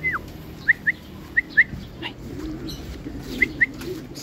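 Bird calls at a racing pigeon loft as pigeons arrive home, with short repeated chirps in pairs standing out over a low, steady outdoor rumble.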